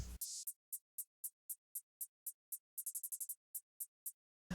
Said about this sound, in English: so together the hi-hats sound like this